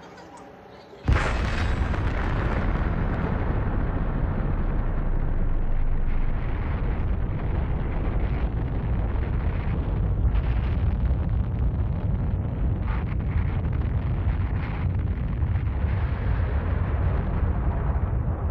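A huge atomic bomb blast erupting about 600 metres above a city at 8:15 in the morning, a sudden loud boom that swells into a sustained, roaring rumble lasting many seconds.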